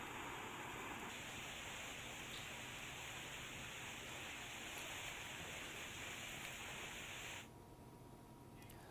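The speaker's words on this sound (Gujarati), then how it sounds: "બનાસકાંઠા પંથકમાં વહેલી સવારથી જ વરસાદ પડી રહ્યો છે" Heavy rain pours down in Palanpur, a dense, steady broadband hiss of falling water that holds evenly for several seconds before dropping somewhat softer near the end.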